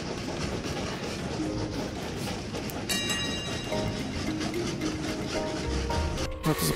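Trains rolling along rails in the Train Valley railway puzzle game, a steady continuous rumble and clatter running throughout at even loudness with some faint tonal chimes layered over it.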